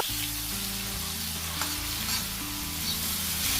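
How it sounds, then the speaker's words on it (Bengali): Chopped tomato is mashed and fried in oil in a pan for a Bengali cauliflower, pea and potato curry, giving a continuous close hiss and sizzle with stirring scrapes throughout, and no voices. "কাটা টমেটোটাকে দিয়ে ভালো করে তেলের সাথে এটাকে ম্যাশ করে নেব"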